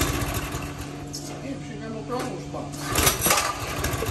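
A Honda GX390 engine idles on a homemade go-kart with a low, steady rumble that swells briefly near the end, while people talk over it.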